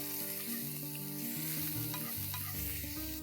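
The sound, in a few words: mixing spices for kachori filling in a pan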